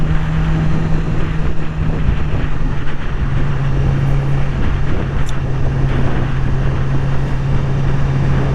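A 2020 Yamaha R6 sport motorcycle rides in first gear at about 30 mph, its engine drone steady and loud beneath heavy rushing wind noise throughout, no voices.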